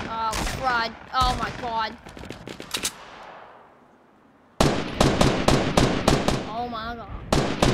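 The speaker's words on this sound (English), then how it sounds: "Oh, I'm out of ammo, really? All right, I'm gonna use my gun." Fortnite Battle Royale gunfire rattles out in rapid loud bursts, a volley, a brief lull, then more sharp shots, with a man's excited exclamations over the first burst.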